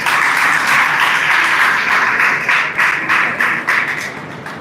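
An audience at a university Engineers Day celebration gives sustained applause, a dense crowd of clapping hands that thins slightly toward the end.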